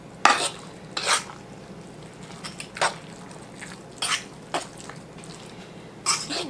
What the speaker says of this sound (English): So I'm going to stir mine up.